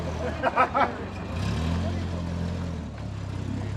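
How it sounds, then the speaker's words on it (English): A red Mark 1 Ford Cortina pulls away from a car meet, its engine a steady low drone that holds through the clip after a few brief louder bursts at the start, with crowd chatter around. "Red Mark 1 Cortina's departing."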